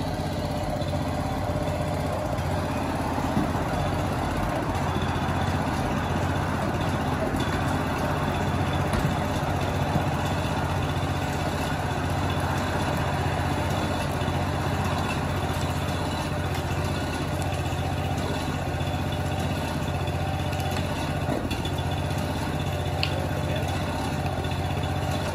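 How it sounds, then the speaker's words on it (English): Engine of a foundation repair lifting machine used to raise a settling stoop: steady mid-level idling drone that runs unchanged throughout, with no talking. "If y'all crank that machine, we'll see how much we can move."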